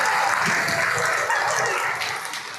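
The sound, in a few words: applause for Captain Hou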